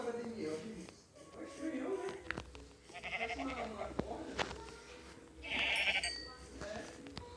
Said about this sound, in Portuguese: Logo essa ovelha, velho.